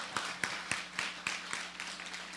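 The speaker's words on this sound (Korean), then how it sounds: "박수하겠습니다." A church congregation at a revival meeting claps in a brief, sparse round of applause, roughly eight distinct claps at a moderate, even pace, faint and fairly close.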